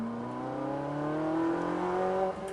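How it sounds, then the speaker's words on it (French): A Ferrari 458 Italia engine, close and loud, drones at low revs and then climbs smoothly in pitch, ending in a brief dip as a gear change is made. "tu l'entends le moteur mieux"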